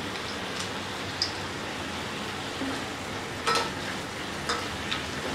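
Steady soft sizzle of carrot halwa cooking in a pan while nuts are stirred in, with a few brief scraping clinks of the spoon against the pan.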